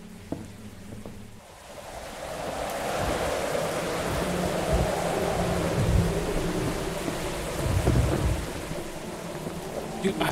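Steady rain falls through a thunderstorm while deep thunder rumbles roll in and swell, loud and close, with brief low voices near the start.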